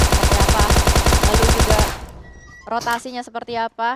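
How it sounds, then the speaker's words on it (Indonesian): Loud, rapid automatic gunfire from PUBG Mobile during a Miramar grand final esports match, a dense burst of shots for two seconds, then a caster talks. "suara tembakan yang cukup kencang"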